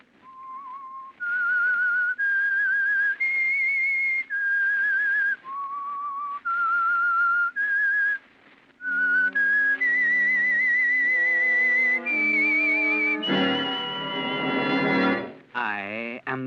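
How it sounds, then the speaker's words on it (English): A lone whistler carries a slow, wavering melody in a string of held notes with short breaks, then orchestral chords swell up beneath the later notes as the theme signal for a 1946 radio mystery program sponsored by an oil company. "That whistle is your signal for the Signal Oil program"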